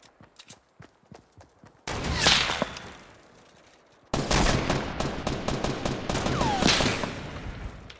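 Sniper and rifle fire in a video game crack sharply over a few seconds, starting as sparse pops and building into loud, dense volleys with whip-like snaps and ringing echoes.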